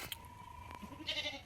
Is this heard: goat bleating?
yes